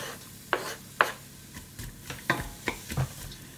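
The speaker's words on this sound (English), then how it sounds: "So I'm going to put some onion in first of all. Get frying the onion." Onions sizzling in a saucepan, with sharp scraping and stirring clacks at irregular intervals over a quiet hiss.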